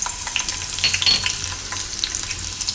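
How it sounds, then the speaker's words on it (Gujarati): Garlic frying in hot oil for a Gujarati radish and beetroot dish sizzles steadily and close, with faint scraping from stirring running through it. "તો એ તેલમાં આપણે પહેલાં લસણ નાખીશું"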